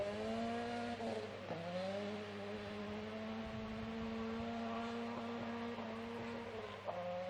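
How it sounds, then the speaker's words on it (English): An SG2 class front-wheel drive rally car labours up a hill on a gravel rally stage, its engine holding a strained, steady drone with small pitch dips at gear changes, fairly close and uninterrupted. "Front-wheel drive car trying to get on the hill."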